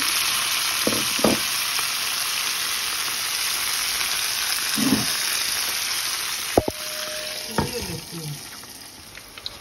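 Tomatoes frying in a pan with courgettes give a steady loud sizzle and hiss, broken by a few utensil clicks and scraping knocks and one brief clatter near the end.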